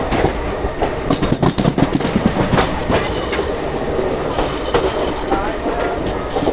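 Shramjeevi Express in Bihar rolling along the rails, loud continuous rumble with rhythmic clickety-clack of wheels over joints, heard close from on board.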